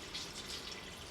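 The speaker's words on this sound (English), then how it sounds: "Now I can add the rest of the liquid. I'm just using water." Water pours steadily into a pressure cooker as liquid is added for chicken stock, a continuous close splashing hiss with no talking.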